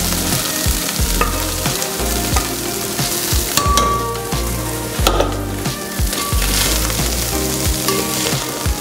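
Boiled rice tossed into a hot frying pan and stir-fried for an Asian grilled chicken dish, crackling and sizzling loudly and close, with repeated scraping and clacking of a spatula against the pan.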